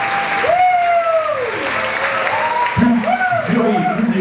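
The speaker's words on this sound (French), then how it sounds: "Applaudissements pour le public." An audience claps through a beauty pageant evening, a dense, steady applause heard close up while a voice talks over it.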